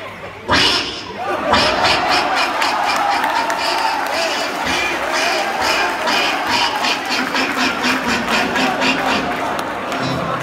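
A performer's voice mimics a duck quacking on stage at a college freshers' mimicry show, a long train of rapid, rhythmic nasal quacks heard loud over a hall sound system, with faint crowd noise underneath.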